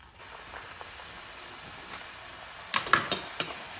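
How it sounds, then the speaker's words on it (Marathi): A vada, a coarse lentil fritter, slipped into hot oil: a soft steady sizzle rises and then breaks into several sharp crackling pops near the end, with no talking. "आता वडे तळूया हेवा वडा घालते तेलामध्ये"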